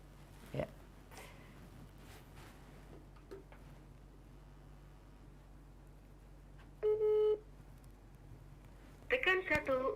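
A short run of steady electronic telephone dialing tones around seven seconds, then a brighter cluster of beeping tones near the end, over a quiet background hum.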